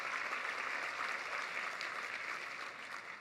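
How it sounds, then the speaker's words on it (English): Faint, steady applause from an audience at a Treehouse Champions event, continuous clapping with no talk over it. "So can we give them a round of applause?"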